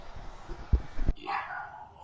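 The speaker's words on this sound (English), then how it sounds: "she's barking, bro" A dog barks a couple of times indoors, two short sharp yaps fairly close, followed by a higher whining tone, with a faint voice in the background.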